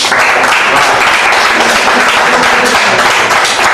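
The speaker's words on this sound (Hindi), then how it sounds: "तो आपके लिए हम तालियां बजाना चाहते हैं।" An audience at a school computer lab inauguration claps loudly and densely, a close, continuous roar of many hands that holds steady for several seconds with no voices over it.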